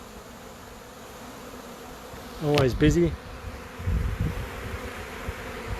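Honeybees swarm and buzz around a wall cut-out, a sharp close buzz swooping past the microphone, then a lower drone as a voice speaks briefly.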